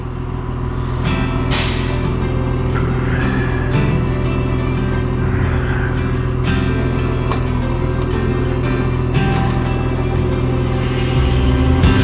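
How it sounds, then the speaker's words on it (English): A vehicle rolls slowly down a driveway, its engine a steady low rumble that holds throughout at close range, with no speech over it. "put it in drive and straighten it out and go down the driveway a little"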